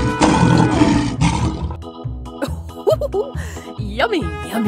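A cartoon lion roars loudly with a rough, sustained growl at the start, followed by bouncy music and playful voices in a children's animal cartoon.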